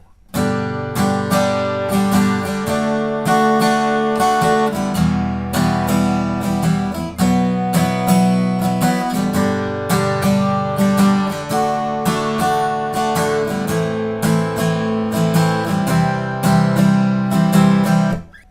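Chords of the chorus of a song strummed in a steady rhythmic pattern on an acoustic guitar, clear and close, changing chords every few bars with no voice.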